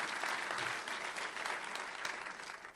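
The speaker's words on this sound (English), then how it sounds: "Can I ask for another round of applause" Clapping from a civic audience at a Balboa Park address in San Diego after a national anthem performance: a steady, dense round of applause, somewhat distant and soft, tapering slightly near the end.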